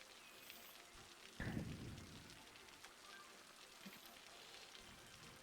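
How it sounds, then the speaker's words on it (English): Steady rain falls in the background, soft and continuous, with a brief louder rumble partway through and no voices. "Hopefully you'll find the rain in the background calming as well"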